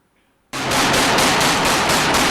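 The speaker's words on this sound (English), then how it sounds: "the video begins with the sound of gunfire" Silence, then a sudden loud burst of rapid gunfire with regular repeating shots that continues steadily to the end.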